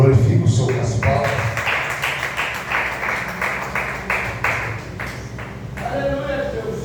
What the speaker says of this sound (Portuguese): Glorifique o Senhor nas palmas.